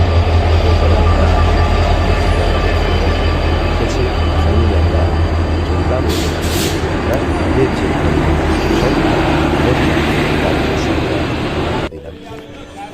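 Train rumble at Ahmedabad railway station, a steady loud roar of rolling rail cars with faint station babble behind it, cutting off sharply near the end.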